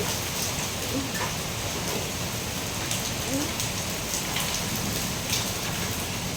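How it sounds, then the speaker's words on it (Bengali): Heavy rain with small hailstones falls steadily, a dense, even hiss of drops on surfaces with occasional sharper ticks, close and continuous, no one talking. "বৃষ্টি হচ্ছে, বেশ ভালো বৃষ্টি হচ্ছে, আর একদম ঠান্ডা"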